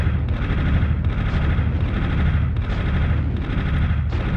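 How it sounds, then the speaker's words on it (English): Rockets fired at the player in the video game Army Men land in a loud, repeated series of booming blasts and gunfire, steady and rhythmic with no gaps. "Sending a lot of rockets my way"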